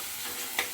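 A tempering of peanuts, coriander seeds, cumin, garlic, onion pieces and dried red chillies frying in oil, a brief, close, steady sizzle with one sharp pop.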